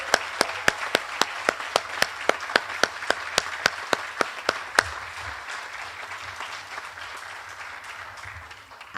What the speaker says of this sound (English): let's have one more big round of applause for the class of 2029